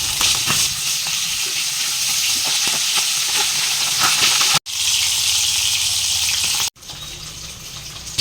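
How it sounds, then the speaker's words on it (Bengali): Hilsa fish head frying in a pan, a steady broadband sizzle that runs continuously with two brief cuts, fairly loud and close with no talk over it. "ওপাশে মাছটা ততক্ষণ ভাজা হোক"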